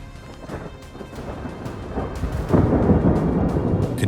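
Thunderstorm in western Arizona with lightning: low rolling thunder rumbling and swelling toward the end, mixed with steady rain noise, fairly distant and continuous.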